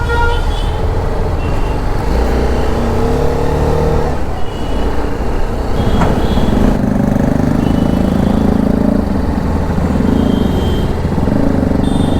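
A BMW G310RR Limited Edition motorcycle rides at night through traffic between Delhi and Ghaziabad, its engine humming steadily under loud wind and road roar, with surrounding vehicles and a brief horn toot.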